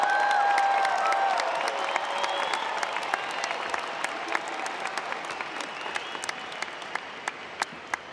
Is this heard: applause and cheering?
yes